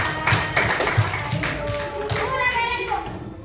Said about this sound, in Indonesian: Coba kasih tepuk tangan dulu buat kelompok 2.